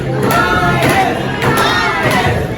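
Wrestling arena crowd roaring and cheering to rally a wrestler named Titus, a sustained loud wash of voices with a few swelling surges and thuds, no commentary over it.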